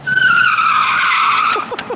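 A Tesla drifts with its tires squealing and skidding in one long, loud, close screech that wavers in pitch, followed by a couple of short chirps near the end.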